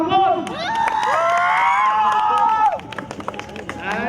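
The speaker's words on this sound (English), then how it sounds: "Let us give them a big round of applause." A youth gathering in Tiruvalla, Kerala erupts in loud cheering and shouting for performed skits, high excited voices and whoops rising together, then settling into scattered claps and chatter near the end.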